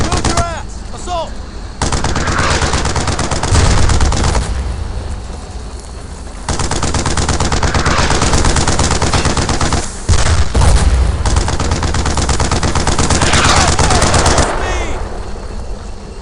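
Video game gunfire in Brothers in Arms: Earned in Blood, sustained loud bursts of automatic fire and rattling shots across a battlefield, with shouted voices briefly in the mix.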